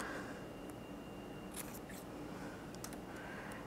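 Cricut scissors snip through paper checklists in a quiet room, giving a few soft, brief cuts spaced a second or so apart.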